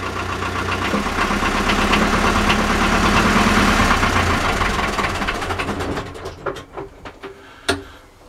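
A small motor boat engine idles on a yacht club mooring, a continuous knocking mid-range rumble that fades and sputters out near the end, followed by a few brief clanks.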